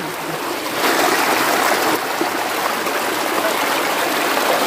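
Clear water of the Narmada river rushing loudly and steadily nearby where water bottles are being filled, a constant broad flowing wash with no voices.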